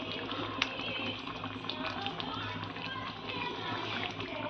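Paneer butter masala curry sauce boils in a pan with a steady, soft bubbling hiss and faint popping, low in level, with no talking over it.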